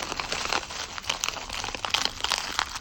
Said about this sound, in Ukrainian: мега класно шарудить і дуже легко відкривається